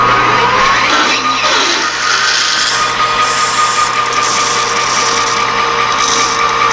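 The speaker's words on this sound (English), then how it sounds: "We're just going to take a 1/2 inch drill, put a quick little 1/2 inch hole in it." A power drill with a half-inch bit runs up close, grinding steadily through material with a harsh, continuous whir for several seconds.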